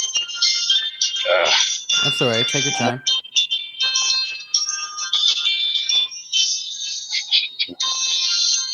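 A cell phone ringtone chimes on and off throughout, with bright repeating tones that persist beneath and between several people talking.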